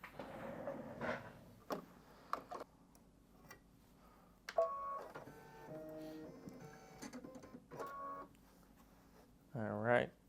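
An embroidery sewing machine stitches a satin stitch around a mug rug design in purple thread, with rapid mechanical clatter in short bursts separated by pauses, close and fairly quiet.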